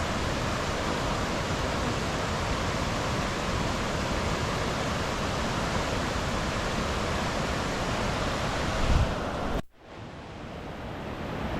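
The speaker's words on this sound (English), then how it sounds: "the water is so loud, it's just gushing over these rocks, creating a real jet noise" River water in a gorge gushes over rocks in a loud, steady roar. It cuts off abruptly near the end and resumes more faintly.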